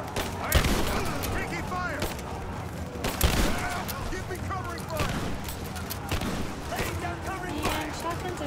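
Repeated shotgun blasts in the video game Rise of the Tomb Raider, sharp loud bangs spaced a few seconds apart over continuous game sound, with someone talking throughout.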